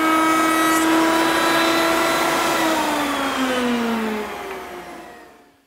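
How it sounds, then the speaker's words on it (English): A router at a router table whines at high speed while cutting a chamfer in wood, a loud close tone that drops in pitch under load and then winds down toward silence at the end. "I have the chamfer that I just did at the router table right here"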